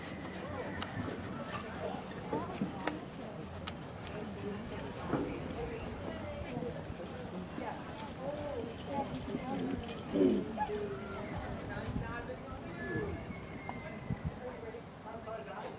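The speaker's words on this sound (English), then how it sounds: "Rebecca Jorgensen and her Percheron horse and our American flag." Percheron draft horse hooves clopping on the ground of a draft horse show arena, steady faint footfalls in a busy, crowd-filled space with people talking in the background.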